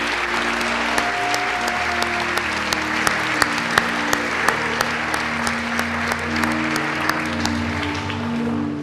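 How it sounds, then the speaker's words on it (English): An audience at a high school awards ceremony gives the students a long round of applause, dense and steady with a few sharper claps standing out, while a low sustained tone hums underneath. "Let's have one more round of applause for all our many accomplished students this year."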